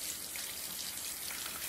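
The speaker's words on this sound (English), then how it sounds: "take your makeup brush and wet it in the water" Makeup brush wetted in water for cleaning, a steady soft watery patter and fizz like light rain, close and continuous throughout with no talking.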